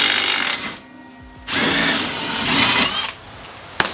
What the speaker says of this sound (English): what you can do is take your impact and slowly start to walk it out while unscrewing